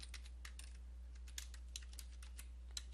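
Quiet keystrokes on a computer keyboard while writing Java code, a sparse, irregular clicking of individual keys over a steady low electrical hum.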